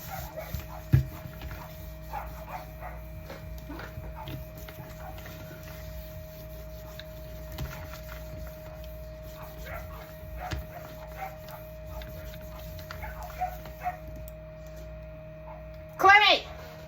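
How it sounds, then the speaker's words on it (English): A dog barks and yips in short bursts at play with another dog indoors, with a louder burst near the end, under a steady background hum and some scattered speech. "she feels the need to bark at the other dog when she plays with him"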